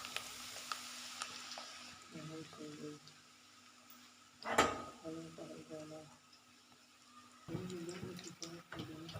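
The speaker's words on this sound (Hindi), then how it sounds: "जो बच गए हैं उनको भी हम जल्दी से फ्राई कर लेते हैं जी।" Banana snacks sizzle softly as they fry in a pan, a faint, steady crackle beneath a voice, with a few clinks of stirring.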